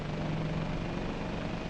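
A helicopter flying in a 1952 archival film, a steady dense rotor and engine drone heard continuously, fairly loud with a grainy, noisy quality and no talk.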